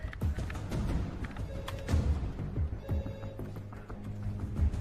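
A telephone rings in a tense scene from an action film, bursts of bell-like ringing repeating over low rumbling background sound and thumps, with no clear speech.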